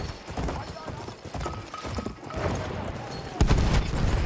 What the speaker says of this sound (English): Over there is enemy cavalry!